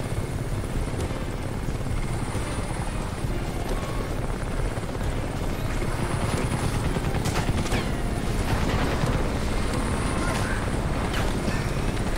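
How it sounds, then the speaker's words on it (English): A helicopter in the video game Crysis Remastered drones continuously with a loud, dense rotor roar and beating texture throughout, with faint game effects mixed in. "I hear a helicopter."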